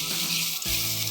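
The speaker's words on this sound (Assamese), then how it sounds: "মই জাতিলাও বাকলিখিনি দি লৰাই দিছোঁ। জাতিলাও বাকলিখিনি অলপমান ভাজি ল'ব লাগিব" Bottle gourd peel fries in a pan with a steady, dense sizzle that stays loud and continuous throughout, close by, with no one speaking.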